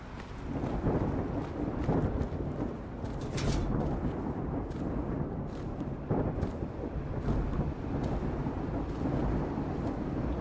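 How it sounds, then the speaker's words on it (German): Thunderstorm in the CityConomy city service simulator game: steady heavy rain roars throughout while thunder rumbles low and continuous, with louder cracks swelling near the middle and a few flickering bursts, no talking. "Gott sei Dank hat das Gewitter aufgehört."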